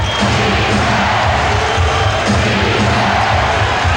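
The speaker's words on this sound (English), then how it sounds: "Chant of defense from the crowd." Loud arena crowd noise at an NBA Finals basketball game between the Chicago Bulls and Seattle SuperSonics, a steady dense roar carrying a rhythmic defense chant throughout.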